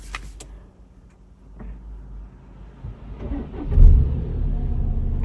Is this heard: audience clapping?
no